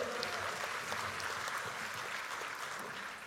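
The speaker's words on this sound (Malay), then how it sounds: "Tepukan untuk Melaka." Hall-wide clapping from delegates at the UMNO general assembly, a continuous even wash of applause that tapers slightly toward the end, with no talk on top.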